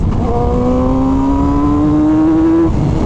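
A Yamaha R6 600cc sport motorcycle revs hard and loud, its engine note climbing steadily in a rising whine for a few seconds before cutting off, with no voices.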